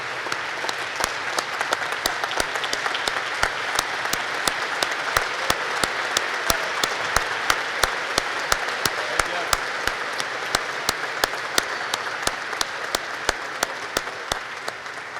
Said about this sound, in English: Please join us in one more round of applause for the 2023 recipients of the United States Naval Academy Alumni Association's Distinguished Graduate Award.